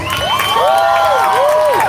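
Crowd at a Free Palestine rally march in Denver cheering and whooping loudly, with sustained shouts and high rising-falling voices carrying over a dense, continuous crowd roar.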